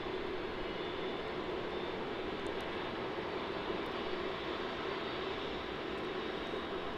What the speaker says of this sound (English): And there it is, vacating runway 16. And yes, Clayton, the naked AirAsia A330.